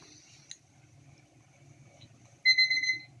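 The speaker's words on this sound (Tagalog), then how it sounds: "Nag-alarm na yung kanyang timer." A kitchen timer goes off while puto with cheese is being made, giving a sharp, bright electronic beeping alarm that starts suddenly near the end, after a quiet stretch of faint background noise.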